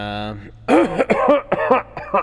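A tabletop game master imitates a man coughing into a handkerchief, with a short rough vocal cough burst and throat sounds, close and clear, followed by spoken voice.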